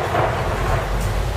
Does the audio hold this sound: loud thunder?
yes